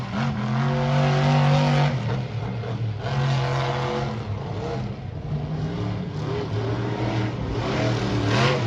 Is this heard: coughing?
no